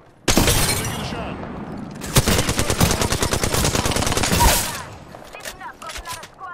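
Gunfire in the battle royale video game Apex Legends, a loud opening shot followed by a sustained rapid automatic burst of evenly spaced cracks, then a few scattered trailing shots fading out, close and dominant.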